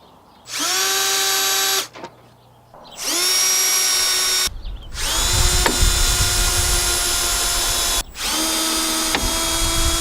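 A power drill runs in four separate bursts, loud and close, each winding up to a steady high whine as screws go in to mount hinges on a DIY compost toilet. Brief pauses fall between bursts, and the later ones carry some rattling.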